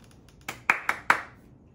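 Four sharp hand claps in a quick, even sixteenth-note rhythm, close and clear, each with a short ringing tail, after a faint softer tap.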